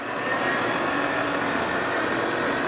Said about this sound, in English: He's running the spindle.